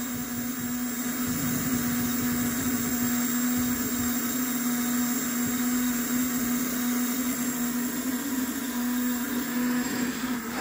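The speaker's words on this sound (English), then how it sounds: "You can really hear the pump spinning up." A fuel pump in a GT500 fuel hat runs in a voltage-boosted flow test at 30 psi, giving a steady whirring hum with a strong constant tone, close and unbroken, with no talk.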